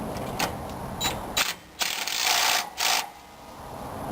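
Ratcheting wrench tightening the sway bar bushing bolts on a 2000 Ford Excursion, with bursts of quick clicking between brief pauses, close and moderately loud with no talking.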